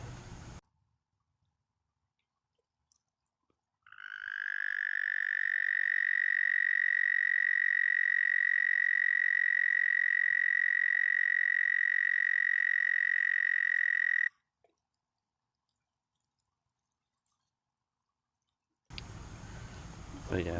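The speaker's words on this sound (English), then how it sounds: "had a toad up here that was croaking" A toad calls at night beside an aquaponics setup, a single long steady trill holding for about ten seconds, loud and close against near silence, with faint background noise before and after.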